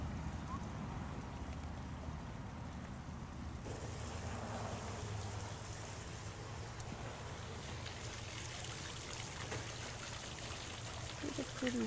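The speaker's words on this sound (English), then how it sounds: "It's a pretty fountain." Outdoor fountain splashing steadily on a sunny morning during a July RV trip to South Dakota, a broad continuous wash of falling water with wind buffeting the microphone and a voice talking over it.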